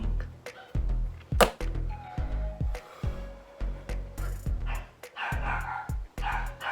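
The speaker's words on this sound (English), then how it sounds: "Now my dog is barking." Indoors at home, a dog barks in short sharp bursts after the doorbell rings, repeated yips and woofs close to the microphone with a few pauses between them.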